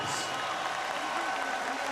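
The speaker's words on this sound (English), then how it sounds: "A round of applause for both of these gladiators." A boxing arena crowd applauding both fighters after a bout: steady, moderately distant clapping and cheering that holds evenly for the whole moment.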